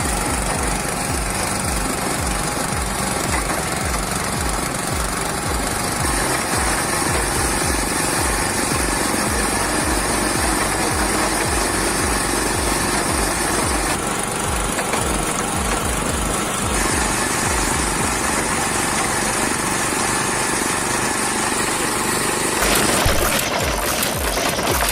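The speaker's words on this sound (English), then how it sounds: "A simple motor, a heavy flywheel, and an efficient mechanism work together to eliminate much of the physical strain traditionally associated with splitting firewood." A motorized firewood splitting machine with a heavy flywheel runs steadily, its small engine droning loud and constant with rhythmic mechanical thumping throughout; no one talks.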